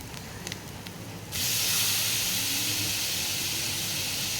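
Chopped tomato drops into hot oil in a pan with ginger for a fenugreek gravy, setting off a sudden loud, steady sizzle that fills the rest of the moment.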